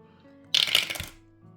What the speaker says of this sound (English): So we roll an 8-sided dice